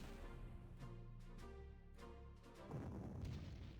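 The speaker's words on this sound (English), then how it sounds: "Artillery." Artillery fire in a Wehrmacht campaign strategy game set around Moscow in 1941, heard as a steady low rumble with soft distant booms and a heavier swell near the end, playing alone.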